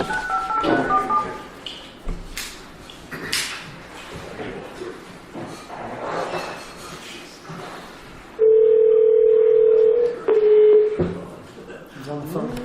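Telephone handset dial tone held steady for a few seconds, followed by a short run of keypad beeps, amid overlapping room chatter and voices in a meeting.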